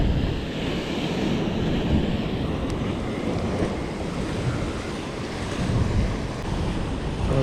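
Sea waves wash steadily onto the shore at a fishing spot in Oualidia, Morocco, with a constant roar of surf and heavy wind buffeting the microphone throughout.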